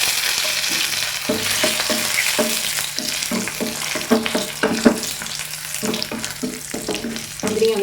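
Cashews and raisins frying in hot oil for egg biryani, a continuous sizzle broken by repeated scraping stir strokes of a spoon in the pan, close and steady.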